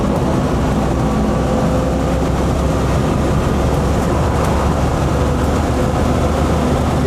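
Inside a Land Rover FC101 V8 on the road, a steady, loud broadband roar of wind, tyre and transmission noise continues without break and largely covers the engine.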